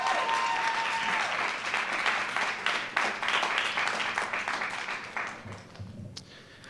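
Audience applause at a school district governing board meeting, a dense, sustained round of clapping from many hands that holds steady for several seconds before thinning out at the end.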